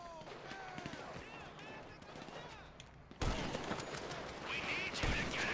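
Shots ring out in Grand Theft Auto V, first faint pops beneath shouting voices, then a louder burst of dense gunfire and chaos in the final seconds.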